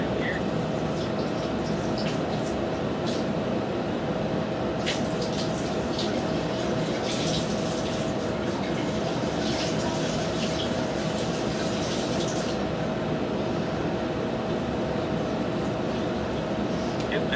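Water poured down a house drain flows steadily through the plumbing cleanout, a quiet, continuous rushing and trickling that holds for the whole stretch with a slightly brighter splashing passage midway.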